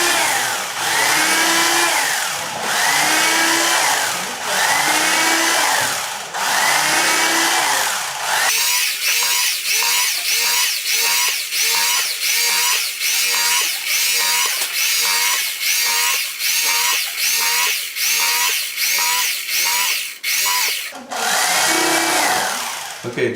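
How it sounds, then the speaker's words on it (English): An electric knife with reciprocating blades carves turkey breast, a loud buzzing motor whine. It starts in several long strokes, then pulses in rapid short on-off bursts before one last longer run. "I have an electric knife, and it makes for a really easy cutting and a really nice presentation."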